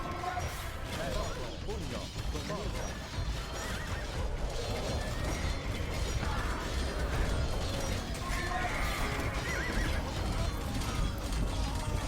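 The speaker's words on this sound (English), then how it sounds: "But my horses can't get over there." Horses whinny and hooves clatter in a video game, within a dense, busy soundscape with mechanical clanking and voices talking over the mix.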